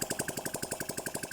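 Restored motorcycle engine with a refreshed engine and carburetor, idling steadily in a regular, rapid thumping rhythm, close and moderately loud with no talk.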